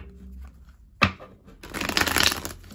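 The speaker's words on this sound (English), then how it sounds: "One more shuffle." Tarot cards are shuffled for a reading, a sharp snap followed by about a second of quiet, close riffling alone with no talk.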